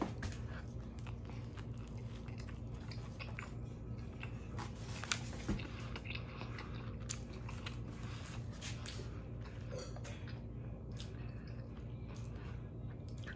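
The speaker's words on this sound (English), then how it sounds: "gotta have a bite of sausage and pepper on a hero" Bites and chewing on a sausage and pepper hero with onion on Italian bread, close and fairly quiet, with soft crunching and mouth sounds over a low steady background hum.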